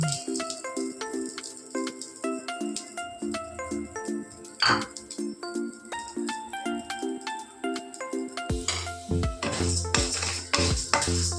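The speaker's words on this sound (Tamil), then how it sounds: "பாசி பருப்பு போட்டு கொஞ்சம் செவக்க வறுத்துக்கணும்" Moong dal dry-roasting in a pan for sweet laddu, the lentils rattling and clinking against the metal as they are stirred in a steady repeated rhythm, ending in a busier stretch of scraping and clatter.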